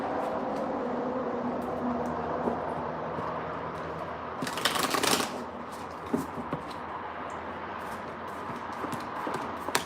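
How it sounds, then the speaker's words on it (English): A deck of tarot cards gets shuffled with soft riffling and flicking, faint and close, with a louder burst of cards midway in an otherwise quiet room. "I just want to give these a good shuffle."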